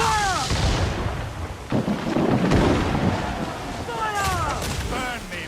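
Ship cannons firing in a naval battle in Assassin's Creed IV Black Flag, heavy booms that crack out and roll on like thunder amid battle noise, with voices shouting at the start and near the end.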